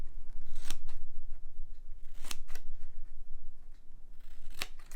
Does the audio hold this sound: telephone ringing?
no